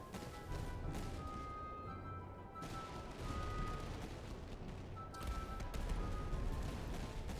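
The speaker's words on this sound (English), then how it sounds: "That was a nice volley from the cannons." Napoleonic-era cannon artillery volley in the battle game Master of Command. Dense, continuous booming and crackling battle din rolls on throughout, with repeated shots blending into a loud, steady barrage.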